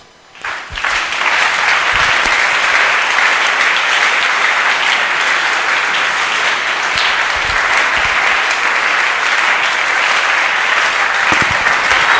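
A church congregation claps loudly and continuously to acclaim the Lord, a dense sustained wave of applause that swells in quickly and holds steady for the whole stretch, with a few brief shouts poking through.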